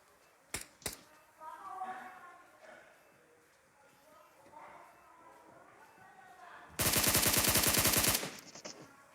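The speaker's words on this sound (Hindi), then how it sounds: "तो मैं डीटी से कहता हूँ बोट फायर करो, शायद तुमको मारने के लिए आएगा।" In the mobile battle-royale game PUBG Mobile, two sharp single shots crack early, then a loud rapid burst of automatic fire rattles for over a second near the end, with someone talking underneath.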